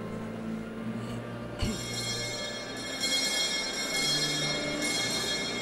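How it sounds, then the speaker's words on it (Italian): A church bell rings inside Messina's cathedral basilica at a solemn beatification ceremony, its strokes steady and resonant over a low crowd murmur, with the tone swelling louder partway through. "Il suono della campana, ecco, predice che tutto è pronto per"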